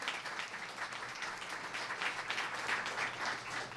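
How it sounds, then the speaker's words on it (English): An audience gives a sustained round of applause at a Seattle city small business relief announcement, steady dense clapping heard at a distance at low level with no talk over it. "Let's give everybody a round of applause for all they're doing."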